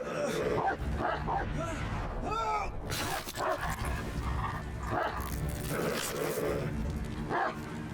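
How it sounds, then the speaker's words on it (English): A dog in the video game Crown Wars: The Black Prince barks, yips and whimpers as it attacks during combat, amid clashing, shattering impacts and someone talking over the action. "Ah, the doggy gets him."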